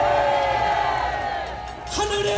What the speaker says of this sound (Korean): 우리의 이 함성 소리가 청와대에 올라간 것을 믿습니다.